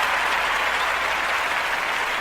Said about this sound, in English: Can you give me some applause on that?